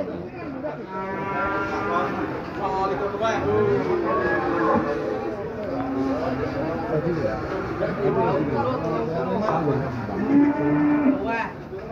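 Several cattle moo loudly and repeatedly at a livestock market in Pati, Indonesia, over a steady crowd murmur, with overlapping low bellows throughout.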